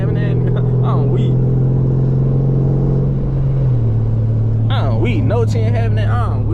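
Dodge Charger Scat Pack with a fully straight-piped exhaust drives with a loud, deep, continuous rumble that holds steady, drops slightly in pitch partway through, then continues under a voice talking near the end.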